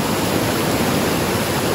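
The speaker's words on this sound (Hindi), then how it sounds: "शोर आपको सुनाई दे रहा होगा, बस पहुंचने लगे हबा खातून स्प्रिंग पे।" Cold water of Habba Khatoon spring in Achoora, Gurez valley, rushes loudly and steadily, a dense unbroken roar that stays close and constant with no other sounds.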